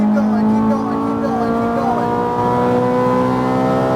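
A Ferrari F430 F1 engine at full throttle on a racetrack, a loud steady high-revving drone heard from inside the car with rising harmonic whine, a voice speaking briefly over it.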